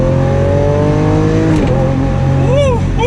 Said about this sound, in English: that was a slight acceleration just to feel that shift